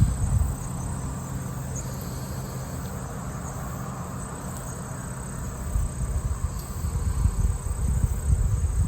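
A loud, continuous hum of honey bees fills an open hive during a mite check, heard close up as a dense, steady buzz that swells slightly toward the end.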